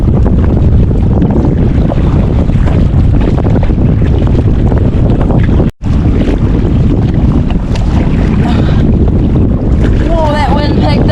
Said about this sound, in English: Whoa, that wind picked up quick!